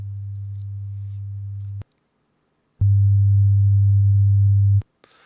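Two steady low-pitched pure tones, raised in level so the pitch seems to drop. A loud tone lasts nearly two seconds, then after a second of silence a still louder tone plays for about two seconds and ends with a short click.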